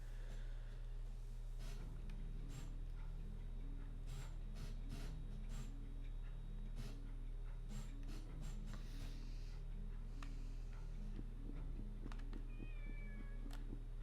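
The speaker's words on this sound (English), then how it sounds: "when you hear it meowing, it means it's awake" A kitten meows repeatedly in the Dreamcast game Shenmue, several short mews spread across a steady background hum, fairly close and clear with no talking.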